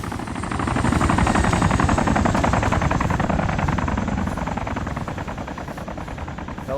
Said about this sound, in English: Helicopter just flew over me.